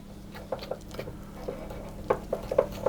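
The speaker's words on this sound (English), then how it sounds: "I'm just going to mix this together to form an icing" Spoon mixing a thick icing of sugar with lemon juice or milk in a bowl, with soft, close, irregular scraping and light clicks against the bowl and no talk.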